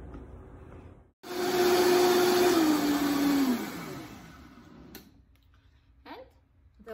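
Blender whirring loudly as it purees a soup of cucumber, avocado, sprouts and vegetable balls, a steady roar for a couple of seconds whose motor pitch slowly drops before cutting off, followed by quieter kitchen handling.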